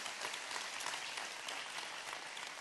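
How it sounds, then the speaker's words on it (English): A gathered audience gives a round of applause for medical workers, a dense and even wash of clapping that stays constant and moderately loud, with no talking over it. "Can we just give them a round of applause this morning?"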